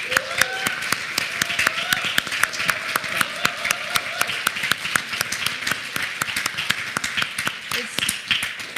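A gathered audience at a talk on love gives a round of applause, with sharp, distinct claps repeating steadily throughout while voices talk over it.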